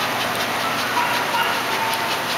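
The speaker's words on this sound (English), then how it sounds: "a cute puppy." A small dog whimpers and pants steadily up close, soft high whines over a constant hiss.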